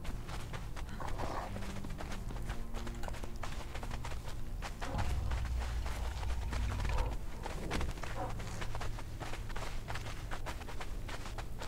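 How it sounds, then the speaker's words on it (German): Horses' hooves clip-clop in the video game Conan Exiles, a steady patter of repeated hoof steps under game ambience, with a heavier thudding stretch midway. "Ich habe Pferde."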